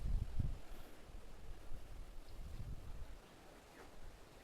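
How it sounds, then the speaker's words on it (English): Steady gusting wind buffets the microphone outdoors on rocks during an RC crawler test, a low rumbling roar that is strongest at the start and then settles into a constant blustery rush. "It is so windy, I had to get better footing."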